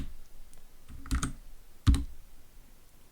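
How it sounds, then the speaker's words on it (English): Computer keyboard keys click and clack as a retro space-trading game is controlled entirely by keyboard, a few sharp close keystrokes in two quick clusters against a quiet background. "I'm using the keyboard. It's all keyboard controlled."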